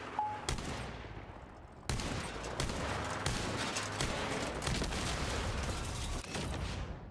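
Rapid bursts of vehicle-mounted weapon fire in the Crossout combat game, dense overlapping gunshots and booms roaring continuously and loud after a brief opening shot.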